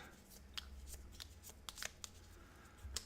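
Small round game tiles from the abstract puzzle game Gorinto are shuffled by hand, giving a run of close, quiet clicks and sharp clacks scattered over about three seconds with no talking.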